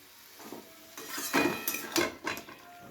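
Bottle gourd stems with potato stirred gently in a metal pot, a few close clinks and scrapes of a spoon against the pot over a faint background, without speech.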